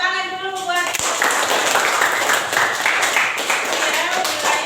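Audience clapping at a classroom teaching session, a broad steady wash of many hands lasting several seconds after a brief tonal voice-like sound at the start, with speech-like texture mixed in.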